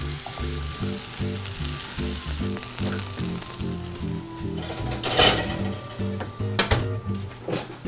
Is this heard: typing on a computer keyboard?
no